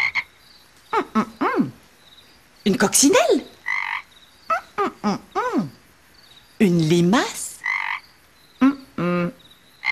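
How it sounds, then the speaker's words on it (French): A frog croaks repeatedly in short, throaty bursts, one ending in a rapid rattling call, while a voice speaks between the croaks. "C'est une petite grenouille qui est venue nous souhaiter bonne nuit."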